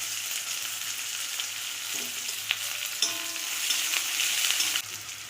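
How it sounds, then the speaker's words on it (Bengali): Chopped onion, one large onion, sizzles steadily in hot oil with black cumin (kalonji), with a dense continuous crackle and a few soft stirring clicks and scrapes throughout, close and without voices. "পেঁয়াজটা একটু ভেজে নেব।"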